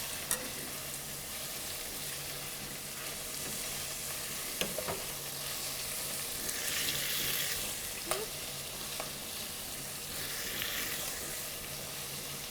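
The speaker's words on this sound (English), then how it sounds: "Stir those, stir them up a little bit more." Kielbasa and vegetables fry in a soup pot, a continuous moderate sizzle broken by a few scattered clacks of a spoon stirring.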